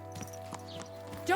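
A few soft hoof clip-clops from a horse in the medieval video game Kingdom Come: Deliverance 2 sound at an irregular walking pace over a low steady hum, ending in a short rising whinny-like tone.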